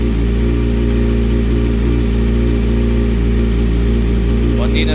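A Kawasaki Ninja ZX6R sport motorcycle idles steadily just after a cold start, its engine producing a loud, even, throbbing drone close by without any revving.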